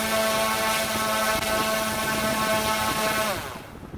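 A Volantex ASW-28 RC glider's electric motor runs at full throttle, a loud steady high-pitched whine with a harmonic buzz that holds for about three seconds before spooling down at the end.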